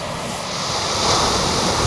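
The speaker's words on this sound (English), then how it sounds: "them waves are getting close" Waves break and wash up a winter beach at Aldeburgh at night near high tide, a loud continuous roar of surf close by with wind buffeting the microphone.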